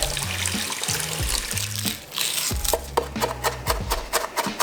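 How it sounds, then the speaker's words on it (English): Cold tap water runs and splashes over drained orzo pasta in a sink colander, a steady close rush with uneven sloshing and light clatter as the pasta is tossed, no talking. "you're gonna drain and rinse it in cold water."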